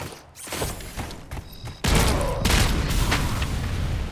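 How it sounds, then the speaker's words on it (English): Grenades go off in a firefight in the video game Robocop: Rogue City, a few sharp bangs amid gunfire and then a heavy booming blast with a sustained rumbling tail. "Fucking grenades."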